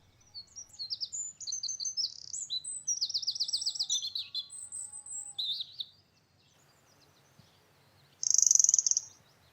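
A blue-fronted redstart chirps relentlessly from a low perch in a run of quick, high, trilling notes, then goes quiet, then gives a final loud burst.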